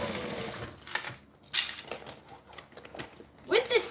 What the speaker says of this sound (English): this top seam that I'm stitching right now